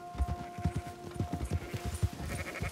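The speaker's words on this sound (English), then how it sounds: "my flock of sheep will blot out the sun" Sheep in Red Dead Redemption 2, a flock being herded with a continuous run of quick hoof clops and intermittent tonal bleats rising through the mix, fairly close and busy.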